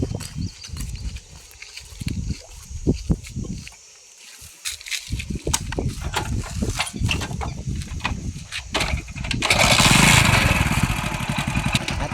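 A motorcycle engine runs close by with a low, rough putter, dipping briefly and then surging into a louder rev toward the end.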